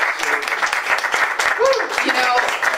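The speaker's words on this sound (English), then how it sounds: "I give, a very big round of applause" Audience applause at an open mic gathering, a continuous patter of many hands clapping with voices and a few shouts mixed in throughout.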